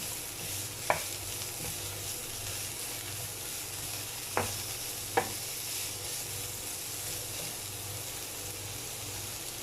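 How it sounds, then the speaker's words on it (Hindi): Chicken with carrot and cabbage sautéing in a pan, a steady close sizzle with a few sharp scrapes and clicks of a utensil stirring the vegetables, no voices. "गाजर और बंद गोभी डाल के इसको मज़ीद थोड़ा सा सौते करेंगे।"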